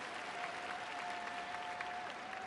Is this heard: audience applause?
yes